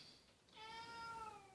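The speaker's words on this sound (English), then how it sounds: "that's my cat, by the way" A pet cat gives a single close, clear meow that rises and holds briefly before trailing off, faint overall, with no talking.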